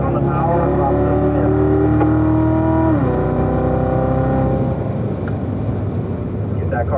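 A Corvette accelerates hard out of a track corner, engine pitch climbing steadily through the gears with a clear shift near the midpoint, loud and close as in-car sound, with a voice talking over it.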